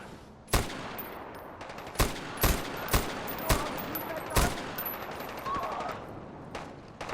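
Far Cry 4 gunfire: a series of sharp, loud shots spaced irregularly over several seconds, with a steady noisy background between bursts.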